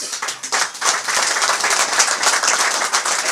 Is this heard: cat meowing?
no